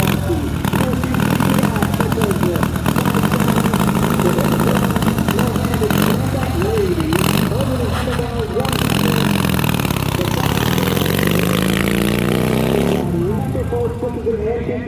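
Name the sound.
1930 Indian Scout motorcycle engine revving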